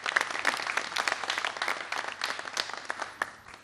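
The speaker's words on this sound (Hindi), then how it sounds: "उनके लिए भी तालियां।" Audience at a live mehfil of dholak and harmonium music applauds steadily, a dense, even wash of many hands clapping throughout, moderately close and unbroken.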